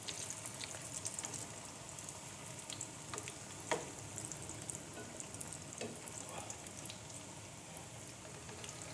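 Moong dal kebabs fry in a pan with a steady, fairly soft sizzle and crackle, broken by a few brief spatters and faint clinks of a utensil, and no one speaks.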